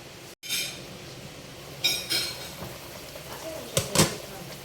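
Chopped cabbage going into a pot of boiled pork stew (nilaga), with a few sharp clanks and clatters of a utensil against the pot spaced across a quiet kitchen background.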